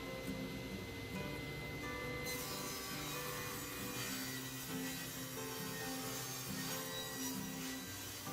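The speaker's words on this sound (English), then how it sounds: "I clean up the outside edges using the same crosscut sled I used earlier" A table saw with a crosscut sled trims the outside edges of a large end-grain wooden cutting board, giving a steady, dense, loud whirring roar with slight shifts in tone as the cut proceeds.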